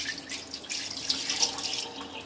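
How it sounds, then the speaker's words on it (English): Water poured out of a cooking pot that held an artichoke into a kitchen sink, a steady splashing rush that swells midway and continues throughout, close and fairly loud. "I'm just going to empty out the water"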